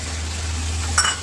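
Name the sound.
marinated meat being stir-fried on high flame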